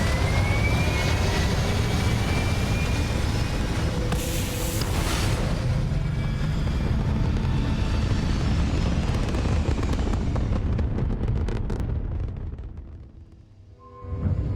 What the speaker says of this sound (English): Takeoff looks good.